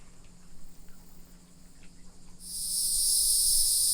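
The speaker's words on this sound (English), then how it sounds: "the sound of cicadas was deafening in the maritime forest" Cicadas in a maritime forest swell into a loud, piercing, sustained buzzing drone partway through, rising over quieter insect chirps and faint ambient hum.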